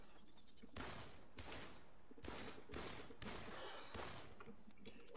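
Gunfire in the online shooter game The Cycle: a run of rapid bursts of shots, about six in a row with short gaps, steady and somewhat distant, with no talking over them.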